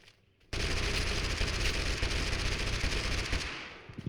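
Sustained rapid automatic gunfire in Totally Accurate Battlegrounds, a loud dense burst of overlapping shots that starts abruptly and rattles on for several seconds before tapering off.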